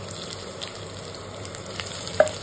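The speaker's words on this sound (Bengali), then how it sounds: "তেল গরম হয়ে গেছে, এবার পেঁয়াজটা দিয়ে দিচ্ছি।" Onions sizzle in hot mustard oil in a pan, a steady close frying hiss with light crackles and one sharper pop near the end, no voices.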